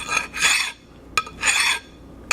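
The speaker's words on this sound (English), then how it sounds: "you're going to file across the face like so" Two long, rasping strokes of a double cut hand file across the face of a metal piece held in a vise, close and distinct, each followed by a sharp tap or click, with quiet pauses between them.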